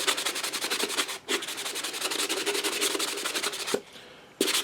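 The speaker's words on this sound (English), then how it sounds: "polish it with a finer grit sanding sponge" Steady rapid back-and-forth rubbing of a fine-grit sanding sponge polishing a starship replica model, a dense scratchy rasp close by, pausing briefly twice before resuming.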